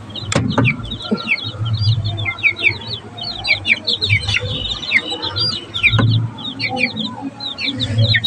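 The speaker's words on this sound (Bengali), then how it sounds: "দেখুন মুরগিগুলো খাওয়ার জন্য কি করছে" Hens and their chicks peck at onion peels and scraps, with frequent nearby clucks and high thin chick peeps continuing throughout, plus a few sharper squawks.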